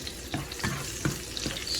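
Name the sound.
garlic frying and being stirred in a pan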